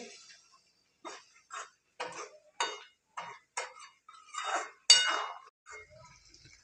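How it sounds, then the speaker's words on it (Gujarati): Metal spoon scraping and clinking against a pan while paneer gravy is stirred, a series of short, crisp, evenly spaced taps close by, with a louder clatter near the end. "હવે બરોબર મિક્સ કરી લઈએ"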